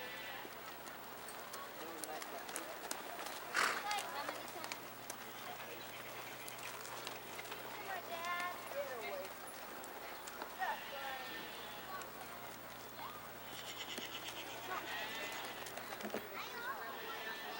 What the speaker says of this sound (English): Walk your horses, please.